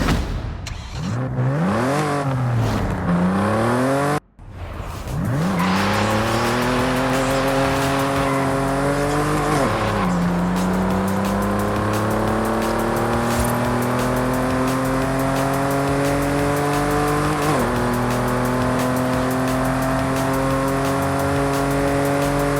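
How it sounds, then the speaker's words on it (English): A stock 1995 Volkswagen Corrado VR6 with a deep, steady exhaust drone, revving up and down several times before settling into a sustained loud rumble with gear-change dips. "let's hear that exhaust note from the stock car"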